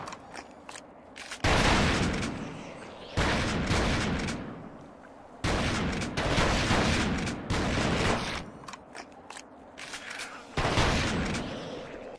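Allied soldiers' gunfire in The Thing Remastered on PC, coming in loud, dense bursts of rapid automatic shots lasting a couple of seconds each, with quieter gaps between the volleys.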